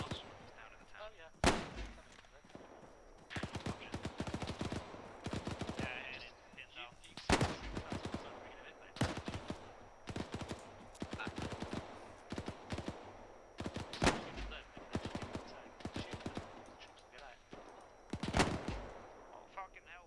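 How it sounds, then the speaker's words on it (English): Rifle shots and bursts of automatic gunfire from enemy soldiers in a World War II video game, loud sharp cracks at irregular intervals over a constant battle din, with voices talking underneath. "We took fire from the guys in the wall steps."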